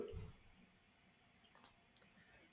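A few sharp computer mouse clicks, two close together and then a single one, stand out over near silence while someone works through Business Central order screens.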